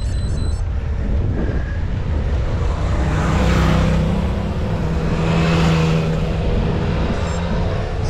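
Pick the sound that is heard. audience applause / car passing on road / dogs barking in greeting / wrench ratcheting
car passing on road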